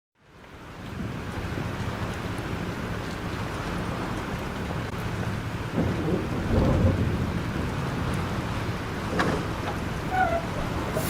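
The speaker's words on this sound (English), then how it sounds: "This storm is real." Steady heavy rain with rolling thunder in a Life is Strange thunderstorm, a continuous loud downpour with deeper rumbles swelling around the middle and again near the end, no voices.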